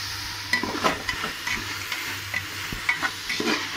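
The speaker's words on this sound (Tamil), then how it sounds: "வெங்காயம் வதங்கிறதுக்காக பாதி உப்பு போட்டுக்கலாம்" Onions frying with salt in a pan for veg pulao crackle with a steady sizzle, broken by several close scraping stirs of a spoon at irregular moments and no talking.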